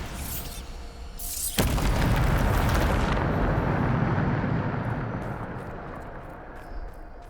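Bombarda blasting spell explosion in Hogwarts Legacy: a sudden loud boom that erupts into a heavy rumbling blast, lingering for a few seconds before slowly fading, with light crackling debris afterward.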